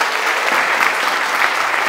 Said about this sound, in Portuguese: Mais uma salva de palmas para o Rei da Glória.